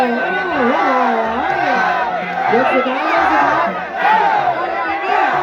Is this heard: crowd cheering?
yes